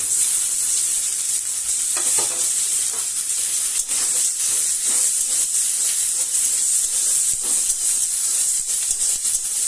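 Carrot, spring onion, capsicum and chopped green chilli frying in a pan for egg-vegetable soup, producing a loud, continuous hissing sizzle up close with intermittent stirring scrapes.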